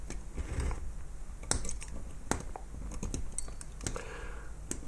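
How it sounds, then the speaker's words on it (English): Wires being snipped off an old, crusty 1950s aircraft instrument, heard as a series of sharp, close clicks and snaps scattered over light handling noise. "Okay, I will cut some wires off here."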